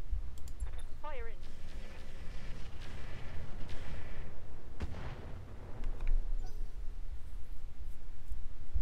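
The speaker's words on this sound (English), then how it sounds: "so let's shoot the Firestarter." Weapons fire at a Firestarter mech in the Roguetech video game, with scattered clicks and booms and one heavy blast midway, alongside game interface chatter and voices.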